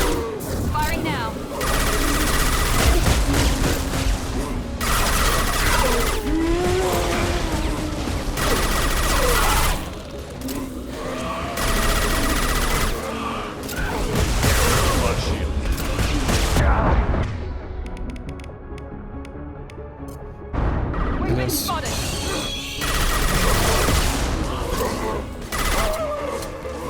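Gunfire and combat in a modded Mass Effect 2, on the attack on Horizon: repeated heavy bursts of shooting and impacts come in long loud stretches, broken by a short quieter lull, with voices talking throughout.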